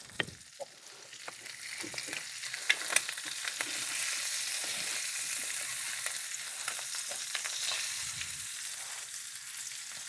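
An egg fries in a pan with a bright, steady sizzle, and a few soft clinks and scrapes from the flip land near the start, close and unbroken by talk.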